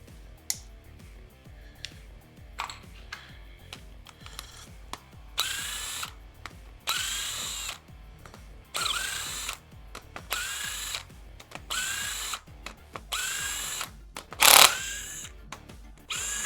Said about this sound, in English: And loosening all these rocker arms off.